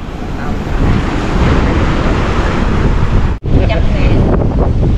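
Waves wash roughly over rocks at Phan Rí Cửa harbour, a loud continuous roar of surf mixed with heavy wind buffeting, with a short drop-out partway through.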